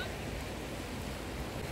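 Sea waves wash beside a freshwater spring on the shore, giving a constant soft hiss of surf with some wind noise. The sound is fairly faint and steady, with no clear voices.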